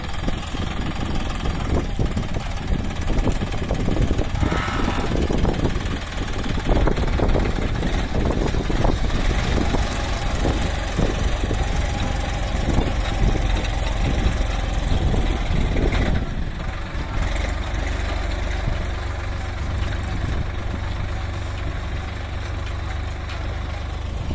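A tractor engine runs steadily while shaping the borders of a farm field, a loud continuous rumble with churning, rattling variation throughout, easing slightly near the end.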